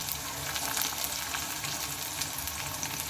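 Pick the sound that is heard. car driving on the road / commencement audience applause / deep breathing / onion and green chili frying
onion and green chili frying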